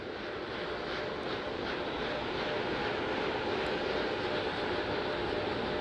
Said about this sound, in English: The 4 core stage RS-25 engines gimbaling around, testing the ability to steer the rocket into space